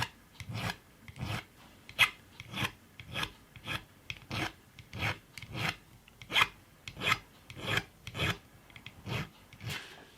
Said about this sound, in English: I'm just going to take those off with this little needle file